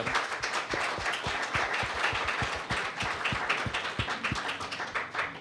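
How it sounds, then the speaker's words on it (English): An audience at a talk on satellites and mobile technology for documenting human rights breaks into a round of applause: dense, steady clapping from many hands, close and lively, with no talking. "let's have a round of applause for Christoph"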